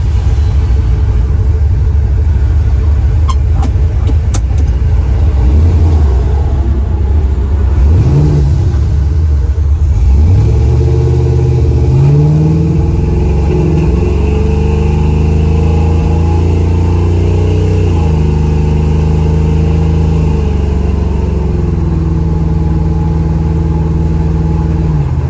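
A 1972 Chevrolet Nova's engine rumbles at idle amid a few handling clicks, then revs and pulls away into a steady, loud driving drone with rising and falling engine tone.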